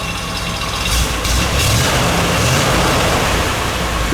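A 1968 Camaro convertible engine with a single exhaust runs loud and close, a dense steady roar with a slight rise as it is given a little gas.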